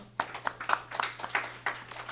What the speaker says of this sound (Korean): 우리 유재승 집사님, 네, 박수로 환영하겠습니다